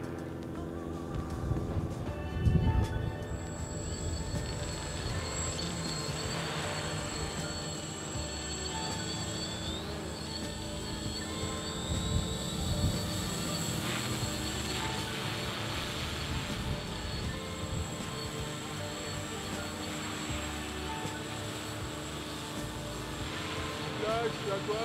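A multirotor drone fitted with a rescue parachute system hovers about ten metres up, giving off a continuous whining motor hum with layered harmonic tones. The hum stays steady and moderately distant, with no talk.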